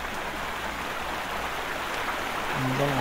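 Steady rushing and trickling of water drains from RV plumbing throughout, even and continuous, growing slightly louder near the end with a faint tonal hum.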